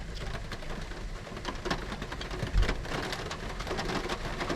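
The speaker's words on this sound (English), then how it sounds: "It's raining." Steady rain pours down continuously, a dense hiss of drops striking surfaces nearby, with a faint low rumble underneath.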